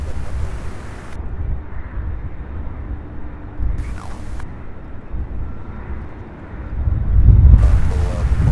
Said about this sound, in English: It is a brand new 737 MAX 8. Southwest Flight 3719.